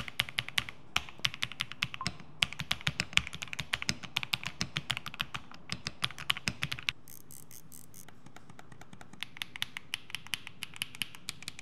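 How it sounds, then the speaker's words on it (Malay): Rapid, steady typing on a fully aluminum Furycube E68 mechanical keyboard, dense clacky keystrokes with a brief pause near the middle, close and clear with no talking. "So jom kita dengar dia punya typing sound guys."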